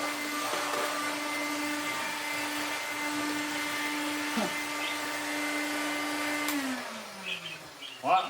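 A cordless 20V brushless motor fitted to a 1960s Hoover Hooverette vacuum cleaner runs with a steady high-pitched whine and hum, its pitch dropping near the end as it winds down, with some faint clatter after.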